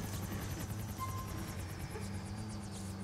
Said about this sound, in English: Who was behind me in a chopper?